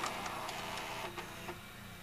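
Soft mechanical whirring with a string of faint rapid ticks and clicks as a Fisher FVH-4000 VCR mechanism unloads a tape quietly up close.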